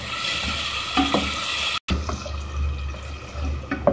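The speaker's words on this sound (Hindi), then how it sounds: "यहाँ पर अब टमाटरों का पानी जो है वो बिल्कुल खुश्क हो गया है, और ये इनको मैं भून रही हूँ।" Chopped, peeled tomatoes cook down and fry in a pan for chicken handi, with a soft, steady sizzle and occasional stirring scrapes up close.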